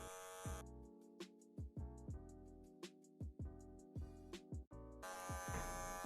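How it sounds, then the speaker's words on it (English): An electric hair clipper buzzes steadily and close up while cutting a man's hair for a short taper fade, its motor tone shifting with a series of small clicks and pauses as it works through the hair. "Clipper over comb."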